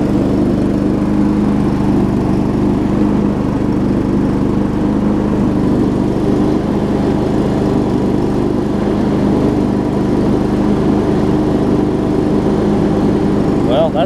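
John Deere 125 riding lawn mower running, a loud, constant engine drone close by that holds steady for the whole stretch with no pauses.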